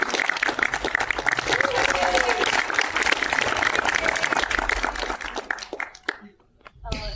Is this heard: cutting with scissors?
no